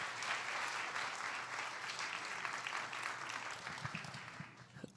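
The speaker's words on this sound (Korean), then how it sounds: "박수로 한번 모셔보도록 하겠습니다." Congregation at a Sunday church service applauding as a young man comes forward, steady broad clapping from the whole room holding for several seconds, with a low hum underneath.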